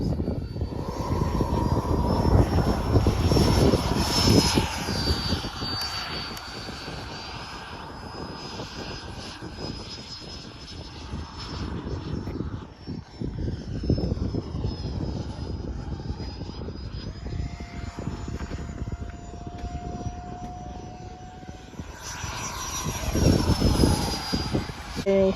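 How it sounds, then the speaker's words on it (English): Light airplane engine roaring at full power during a short-field takeoff with full flaps at the Cherry Creek airshow, a loud steady drone that swells and fades, with a faint whine and brief voices. "let's do a little short field takeoff"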